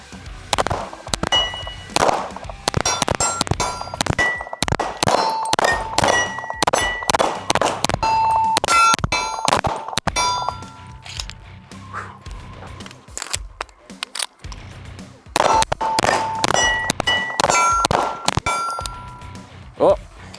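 A Jacob Grey NOX9 being fired outdoors, sharp metallic reports and ringing pings in rapid, irregular succession, loud and close, with a brief lull before another quick burst.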